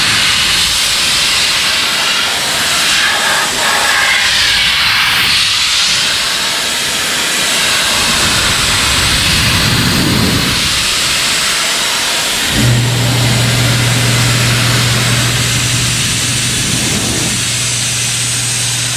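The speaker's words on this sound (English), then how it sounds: "so we got our blow nozzle" Compressed air from an air hose blow nozzle drying wet-sanded gelcoat, a loud continuous hiss running throughout with a steady low hum joining in partway.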